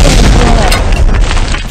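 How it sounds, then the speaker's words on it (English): Loud, deep booming explosions from a military war video game, heavy low rumbling blasts filling the whole short moment. "Boom! Let them explode."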